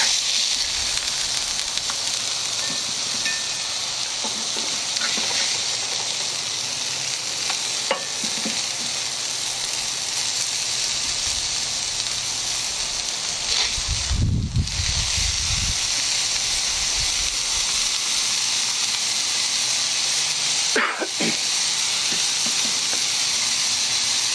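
Burger patties sizzle steadily on a griddle after being flipped, a close, continuous frying hiss with a few brief scrapes and bumps partway through.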